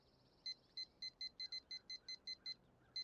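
A digital timer gives a quick series of about a dozen short, evenly spaced electronic beeps, faint and close, over a quiet background.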